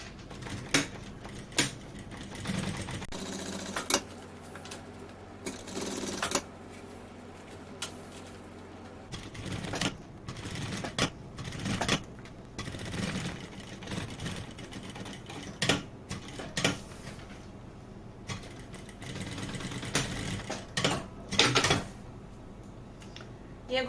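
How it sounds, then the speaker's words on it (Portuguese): A sewing machine stitching lining to synthetic fabric, heard as short intermittent bursts of mechanical whirring and clicking at moderate volume, with someone speaking between them. "faço já a costura aqui a toda a volta também, para prender então o forro ao sintético"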